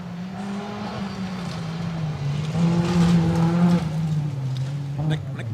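A Toyota Sprinter rally car passes on a forest stage at Mt Grey Down in Ashley Forest, its engine note rising as it draws near, peaking loud, then fading away, with commentators talking underneath.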